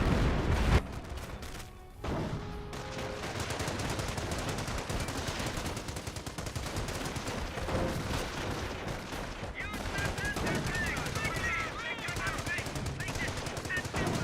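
Dense, constant battlefield gunfire from the World War II strategy game Company of Heroes, with machine-gun bursts and rifle shots rattling through the whole clip; faint distant booms sit underneath.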